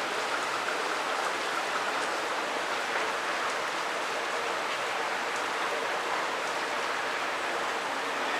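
Steady rain pours down outside, a continuous broadband hiss with no breaks, moderately loud and even throughout.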